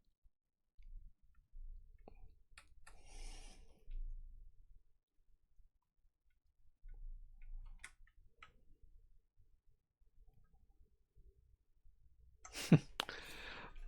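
Typing on a Matrix Labs Faukwaa mechanical keyboard built without foam, quiet scattered key clicks and taps under soft, low talk, ending with a brief louder burst of clacks.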